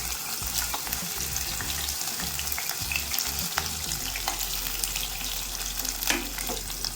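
Ginger, green chili and broken cashews sautéing in ghee over a medium flame, a close, continuous crackling sizzle with light stirring and no voices.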